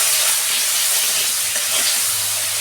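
Garlic dropped into hot oil with onions fried golden sizzles steadily and loudly, a continuous close hiss with no pauses across the whole stretch.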